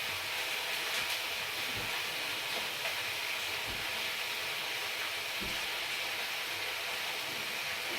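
Tomatoes fry in a pan for a coriander chutney, making a continuous, even hiss and sizzle with a few soft knocks throughout; no voices are heard.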